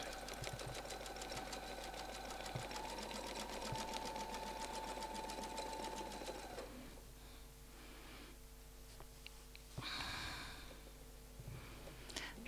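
A domestic sewing machine stitches rapid, even bursts while quilting feathers with templates, running steadily for several seconds, then stopping, followed by quieter handling noises and a short restart.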